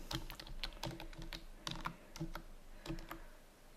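Username being typed on a computer keyboard: a run of quick, irregular key clicks, close and clear, with no talk over them.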